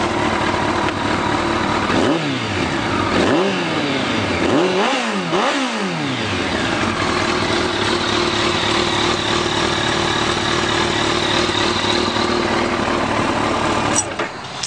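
A 2014 Kawasaki ZX14R Ninja ABS motorcycle engine runs close by, idling steadily with several sharp throttle blips that rise and fall in pitch before settling back to a loud, even idle.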